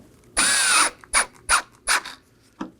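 Power driver spinning T15 Torx screws into a grille on a 2018-2024 Chevrolet Equinox 1.5L, one longer whir then four short bursts and a final brief zip, close and alone.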